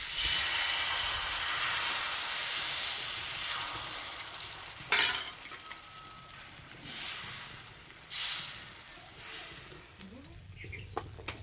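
Egg and vegetable paratha batter ladled onto an oiled tawa, with a strong sizzling hiss that fades and is then broken by a few short bursts of spitting and frying. Someone speaks briefly during the clip.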